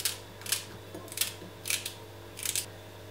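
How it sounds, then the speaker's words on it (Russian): Celery being cut into a bowl with scissors gives crisp snipping bursts, about five in a loose rhythm, close and moderately quiet, with no talking. "Сюда же режу сельдерей."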